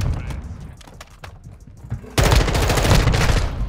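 Gunfire in Call of Duty: Modern Warfare 2 breaks out as a dense, loud burst of rapid shots after a quieter stretch with scattered faint pops and some talking.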